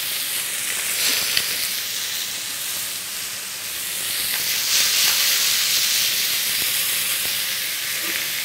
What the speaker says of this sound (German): die Parüren, also die Abschnitte, ne, sofern die jetzt hier in die Pfanne mit reinpassen, könnt ihr ruhig an die Seite mit reintun